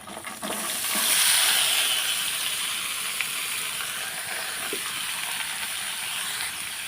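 Washed, cut vegetables drop into hot spice paste in a village kitchen pan, giving a steady broad sizzling hiss that swells early and then holds at an even level, with no talking.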